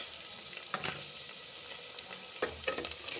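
Garlic frying in a pan for avarekalu usali (fresh field bean curry), a steady soft sizzle with a few louder stirring scrapes and clinks, close by and without talk.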